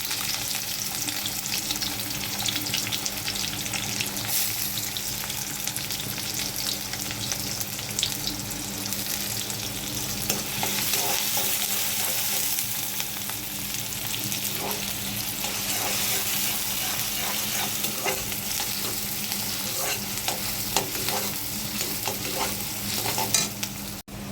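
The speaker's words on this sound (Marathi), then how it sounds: "मिरची थोडीशी परतली गेली की त्याच्यामध्ये कांदा टाकून घ्यावा." Onion and green chilies frying in a pan for a methi bhaji lunch, a steady sizzle with stirring scrapes and some running water throughout, no voices.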